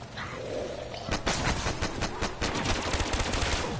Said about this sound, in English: Fire that damn gun